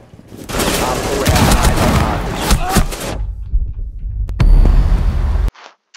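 Heavy gunfire in a tactical video game siege: a dense, loud burst of rapid shots for several seconds, then a pause and another sharp burst before it cuts off.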